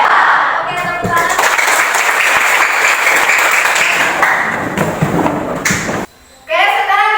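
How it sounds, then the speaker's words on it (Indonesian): Applause from a classroom of students fills about six seconds, a dense, steady patter with a few thumps and young voices mixed in, then cuts off briefly before a voice resumes. "tepuk tangan"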